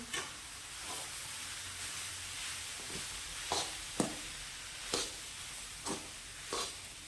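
Steamed green peas being stirred in a pan with the gas turned off: a faint background hiss broken by a regular series of soft scraping strokes about once a second.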